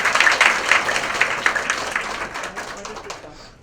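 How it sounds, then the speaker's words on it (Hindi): Loud applause from an audience gathered for a birthday celebration at a breast cancer support event; the clapping is dense at first and then slowly fades over several seconds. "तो उनके लिए बहुत जोरदार तालियां"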